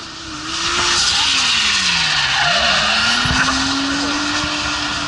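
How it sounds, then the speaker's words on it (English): BMW race car running a Toyota six-cylinder turbo engine skids around a track, its engine note rising and falling as tires scrub loudly through a corner, sustained and close throughout. "in that BMW, running a Toyota engine, the 6-cylinder turbo"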